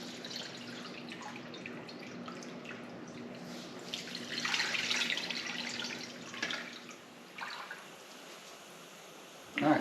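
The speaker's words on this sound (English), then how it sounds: "And then you just strain all the broth out." Homemade chicken broth being strained, liquid pouring and dripping steadily through a strainer with a faint trickling wash that swells midway, then tapers off into quieter drips.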